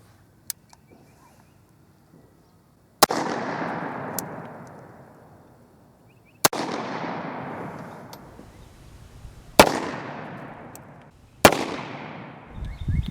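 A Bond Arms Grizzly derringer fires 45 Colt rounds outdoors. Four loud, sharp reports, each followed by a long rolling echo, come at spaced intervals after a few faint clicks at the start.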